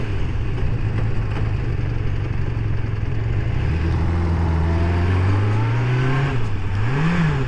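A rebuilt Kawasaki GPZ600R motorcycle engine runs steadily while warming up, a close, continuous mid-pitched drone whose tone rises and wavers through a few gentle revs toward the end, with no talking.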